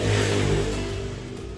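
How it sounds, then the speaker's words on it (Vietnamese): A used Xmen electric scooter with a new battery has its motor started and left running, giving a loud, close, steady hum that eases off slightly toward the end, with no voices. "Khởi động cái động cơ thôi."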